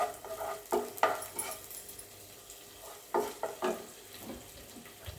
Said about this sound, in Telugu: మెంతులు అన్నీ వేసుకుని బాగా దోరగా వచ్చే వరకు వేయించుకుందాం